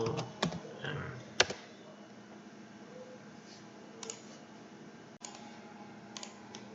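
Sparse clicks of computer keyboard typing while iptables rules are entered, a few isolated sharp keystrokes scattered over quiet background, faint and close.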